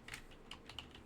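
A handful of quick, light keystrokes tap on a computer keyboard, close and fairly quiet, in an irregular typing rhythm.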